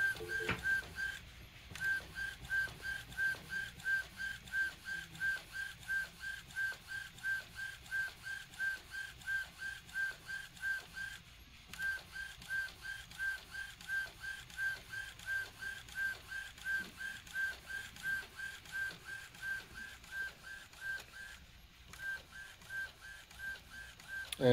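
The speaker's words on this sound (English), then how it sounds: "the printer will print the image in the correct location." An Epson XP15000 printer printing an image, its mechanism running in a steady, fast rhythmic pulse with a high tonal whine throughout, briefly pausing twice; close and fairly quiet, with no talking.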